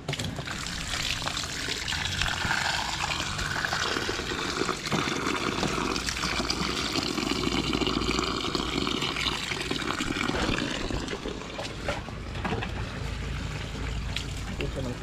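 Water is poured into a container to give an animal a drink on a rural provincial farm, a continuous splashing trickle running for about fifteen seconds at close range, with faint background sounds mixed in.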